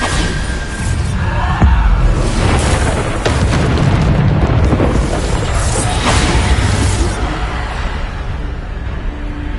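Bombarda spell explosion in a video game: a sustained loud, booming roar with crackling bursts and a heavy thump early on, dense and close, with no talk.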